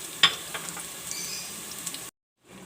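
Whole garam masala spices fry with onions for beef pulao, a steady close sizzle with a few stirring clicks, then the sound cuts to near silence for a moment before a faint sizzle returns.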